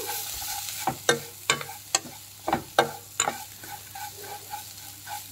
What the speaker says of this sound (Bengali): গোটে গাজর কু করিকি রাখি তো তিন চারি মিনিট ভাজি দেবে এমতি গাজর কু